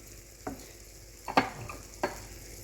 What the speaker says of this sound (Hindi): इसको हमने 2 मिनट तक सौटे करना है, इसका कलर चेंज नहीं करना।